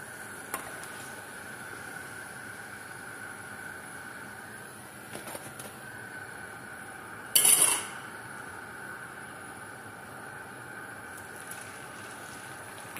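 Pieces of food frying one by one in a pan, giving a steady, faint sizzling hiss with a short utensil clatter about midway.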